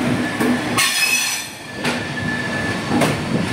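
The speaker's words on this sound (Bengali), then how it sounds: "দুপুর 1:16 ট্রেন গুয়াহাটি স্টেশন ছেড়ে পরবর্তী গন্তব্য চাপড়মুখের উদ্দেশ্যে" A passenger train pulls out of Guwahati station bound for Agartala, its wheels rumbling and clattering on the rails, with sharp bursts of squeal and steady rolling noise close by.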